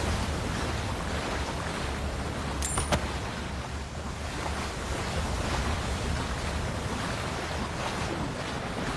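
A waterfall in the video game Avowed gives a steady, loud, broadband rush of falling water that holds evenly throughout, with a faint brief chime near the start and no talk.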